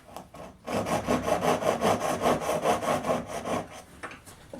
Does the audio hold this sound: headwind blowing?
no